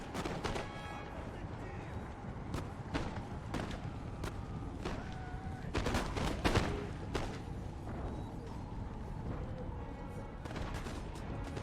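Scattered musket and cannon volleys from a Prussian-era battle in Empire: Total War, sharp cracks and booms popping irregularly over a dense, rumbling battlefield din.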